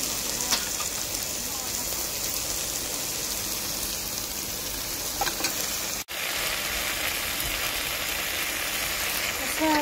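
Potatoes and soya chunks frying in a spiced masala, a steady close sizzle with soft scraping from stirring, broken once by a brief cut, with no voices over it.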